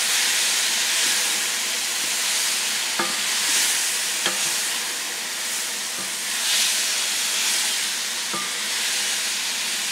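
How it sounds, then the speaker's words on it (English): Green beans stir-fried with oyster salt and sugar sizzle in a steady hiss, broken by a few soft scrapes and knocks from a stirring utensil. "let's go ahead and start giving this a stir"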